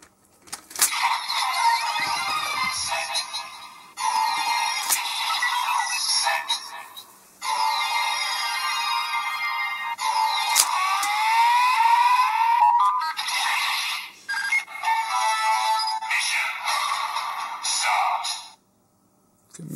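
Electronic voice callouts and synthesized effects blare from a Kamen Rider Geats DX Spider Phone toy in bursts of several seconds, separated by brief gaps and a few clicks of handling, loud and close.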